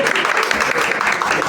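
An audience claps steadily, a dense close patter of many hands that holds even and sustained throughout the short burst.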